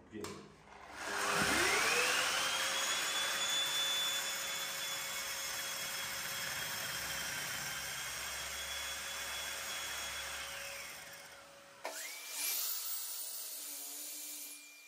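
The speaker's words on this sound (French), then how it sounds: "à partir du moment où je vais démarrer la carotteuse, eh bien, il va s'actionner" A core drill running dry to sharpen its bit, a loud high motor whine spinning up, holding steady for about ten seconds, then spinning down, heard close.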